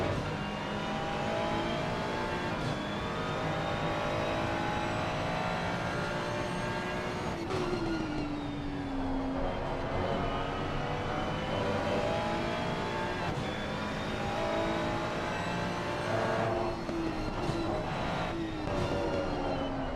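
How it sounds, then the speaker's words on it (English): Ferrari and BMW M4 GT3 race cars at Imola, with loud engines roaring continuously, gears shifting and revs rising and falling as the cars pass close by. "Sights and sounds of the Ferrari and BMW M4"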